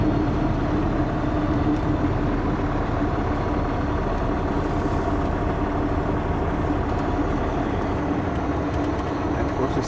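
Heavy truck engine rumbling steadily at close range through a tight, slow turn, a continuous low drone with constant loudness and no talking.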